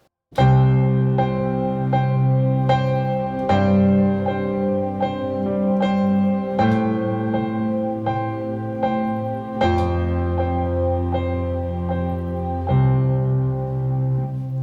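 Sustained keyboard chords ring out in a slow, even pattern while the bass notes underneath shift every few seconds.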